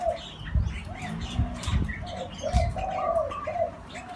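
Soft, repeated coos from a zebra dove at moderate distance, with faint chirps and outdoor background noise throughout.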